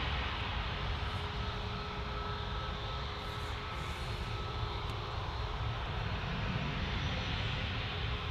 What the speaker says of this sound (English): 737-800 off to Amsterdam, flight KL 1030.